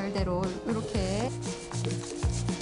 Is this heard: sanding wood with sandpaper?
yes